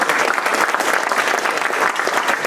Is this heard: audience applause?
yes